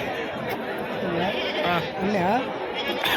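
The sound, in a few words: goats bleating at a livestock market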